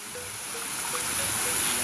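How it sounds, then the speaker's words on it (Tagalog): Creek water flowing steadily right beside a road at a farm lot in Calauag, Quezon, a soft continuous wash of water with a faint high whine over it, no talking. "ito naman po yung sapa na pinanggagalingan ng tubig"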